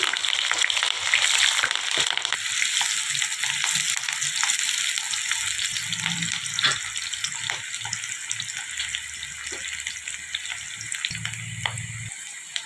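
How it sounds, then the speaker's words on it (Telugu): Onions, green chillies and curry leaves crackle and sizzle loudly in a few spoons of hot oil for a chicken fry, a dense close hiss with occasional stirring scrapes that eases slightly toward the end. "ఉల్లిపాయలు, పచ్చిమిరపకాయలు, కరివేపాకు వేసేస్తున్నామండి."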